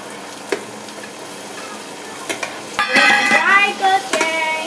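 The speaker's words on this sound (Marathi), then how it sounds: "कांदा चांगला फ्राय झालेला आहे आणि आता आपण टोमॅटो टाकून घेणार आहोत" Tomatoes are tipped into fried onion in a pan, bringing a loud burst of hissing sizzle after quieter clinks, with a spoon stirring and scraping close by and nobody talking.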